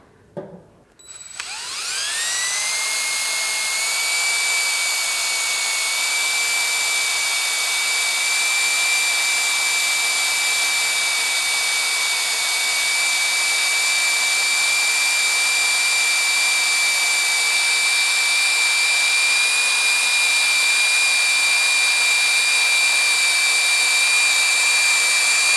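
A drill bores through thick steel plate on a tractor quick-attach upgrade, giving a loud, steady high-pitched whine with a sustained tone that starts after a brief clunk and runs unbroken throughout.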